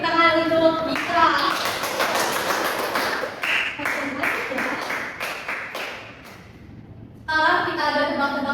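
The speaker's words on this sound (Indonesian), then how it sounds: "beri tepuk tangan untuk Ikra" In a classroom microteaching session, children applaud a fellow student after a math problem: a burst of scattered, lively clapping lasting several seconds, framed by a speaking voice before and after.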